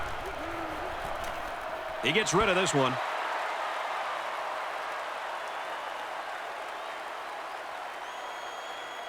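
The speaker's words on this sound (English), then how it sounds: "So this crowd is making their presence felt." A football stadium crowd roars and applauds in a broad, steady wash of noise that holds throughout, with a commentator briefly talking near the start.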